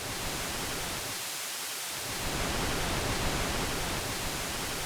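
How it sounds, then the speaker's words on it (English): Continuous pink noise from a GForce Oberheim OB-1 synthesizer, a steady full-band hiss with a softer top end, holding at an even level throughout. "You have noise going from white noise to pink noise."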